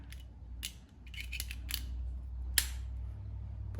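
A metal European cabinet hinge handled up close: several sharp clicks and snaps as the hinge arm opens and closes, with light metallic rattles between, no talk.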